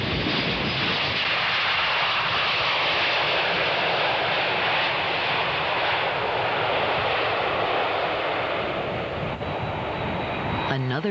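Passenger airplane engines produce a steady, loud broadband roar that holds evenly throughout, as heard from inside the cabin, with a brief voice near the end.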